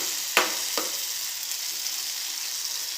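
A tamarind water and sugar mixture sautés in a pan, giving a steady, soft broadband sizzle with a couple of brief clinks of a spoon against the pan near the start.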